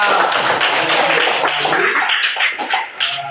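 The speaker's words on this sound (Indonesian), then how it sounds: "Beri tepuk tangan dulu untuk teman kita." Schoolchildren in a classroom clap for a classmate. The clapping is brisk and dense at first, then thins into scattered claps toward the end, with faint voices beneath.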